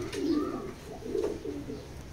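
Racing pigeons cooing, two soft throaty coos a moment apart, fairly faint against a quiet background with no talking.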